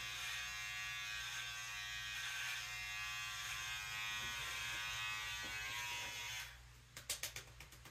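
An electric shaver buzzes steadily and close up while shaving off half of a mullet haircut, a continuous drone that cuts off near the end, followed by a few short clicks.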